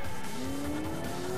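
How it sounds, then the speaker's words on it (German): An all-wheel-drive car in the Alarm für Cobra 11 driving game accelerates with a rising engine whine and a sustained tire squeal, loud and close throughout the short stretch. "Der fährt sich richtig, richtig geil. Aber hat Allrad und das heißt, der kommt ein bisschen besser vom Fleck."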